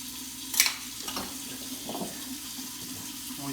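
Tap water running briefly while a bowl is quickly rinsed in a kitchen sink, a soft splashing rush with a short clatter near the start, fairly quiet and close.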